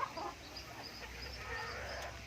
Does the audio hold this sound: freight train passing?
no